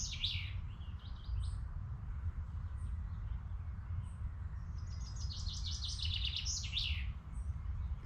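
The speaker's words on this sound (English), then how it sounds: "And willow warbler." A willow warbler sings in woodland in two sweet, descending phrases, one at the start and a longer one later, clear over a steady low rumble, with other faint chirps between.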